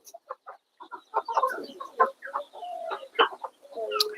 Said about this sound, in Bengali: হ্যাঁ মুরগি